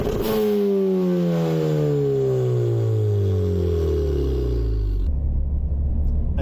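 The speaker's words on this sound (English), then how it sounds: "in another clip just here of me revving the car" A Ford Fiesta ST180 with a Peron Stage 2 tune revs hard, its engine note climbing steadily in pitch for about five seconds before it cuts off sharply and a lower idle rumble remains.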